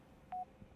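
A phone in a video game gives a single short electronic tone, a clean beep lasting about a tenth of a second against a quiet background.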